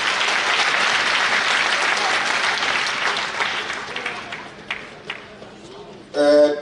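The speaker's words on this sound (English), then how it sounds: "You deserve to give yourself a big round of applause for that" Delegates at an ANC provincial conference break into a big round of applause, loud and dense at first, then thinning and fading, before a voice starts speaking near the end.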